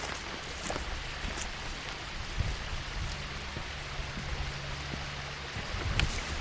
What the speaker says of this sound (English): I'm gonna cross another creek.